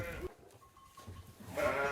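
Sheep bleating on a mountain farm, a couple of short wavering bleats at the start and end with quieter rustling between, fairly close.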